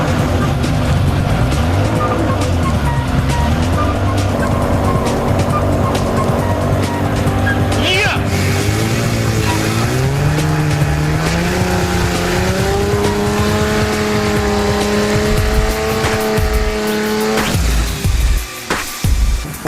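A Toyota Supra race car with a 2JZ engine runs loudly and continuously at close range, its note rising and falling through several revs before cutting out near the end.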